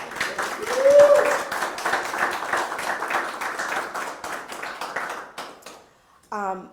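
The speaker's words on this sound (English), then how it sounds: "let's just clap for this visionary" Audience applause at a Motown Museum event about expansion plans, a steady crowd clapping sustained for several seconds with voices mixed in, fading out before a brief spoken phrase at the end.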